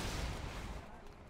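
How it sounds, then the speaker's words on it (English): A quad cannon fires in a video game, a dense burst of heavy booming shots that rumbles loudly and then fades. "Quad cannon."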